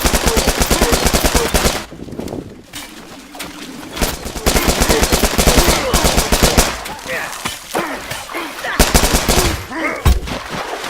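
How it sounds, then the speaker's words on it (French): Rapid machine gun bursts from the video game The Culling, loud and repeated across most of the stretch, with a brief lull near the middle; players talk over the gunfire. "Il a une mitraillette, le con?"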